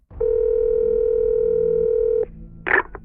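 A steady telephone dial tone hums for about two seconds, then cuts off, followed by a brief burst of noise and a click.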